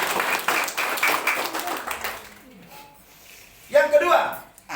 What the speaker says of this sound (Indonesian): Beri tepuk tangan dulu yang terbaik buat Tuhan Yesus.